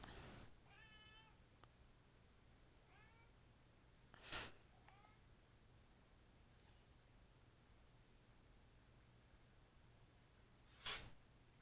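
Two sharp sneezes, one at mid-clip and a louder one near the end, stand out against a quiet room where a cat meows softly several times beforehand.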